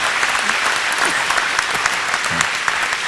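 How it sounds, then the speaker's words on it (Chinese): A crowd gives David a round of applause: dense, continuous clapping from many hands, loud and close throughout, with no voices standing out. "我们给 David 一个掌声"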